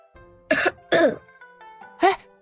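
A man revived after nearly drowning coughs three times in sharp, close bursts over a quiet background with faint tonal music, the coughs sounding harsh and throaty.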